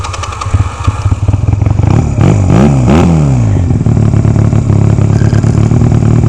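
A small engine on an unidentified little vehicle sputters to life with the choke off, then revs up in loud rising and falling surges before settling into a steady close clattering idle.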